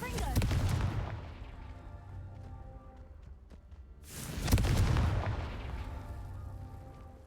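A Confringo blasting spell goes off in Hogwarts Legacy as two loud explosive blasts, one at the start and another about four seconds later, each a booming burst that rumbles and fades away over game sounds.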